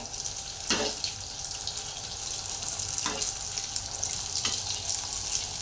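Puffed pani puri puris frying in hot oil on a lowered flame, a steady soft bubbling hiss with a few brief splashy bursts as they are flipped over, close and alone.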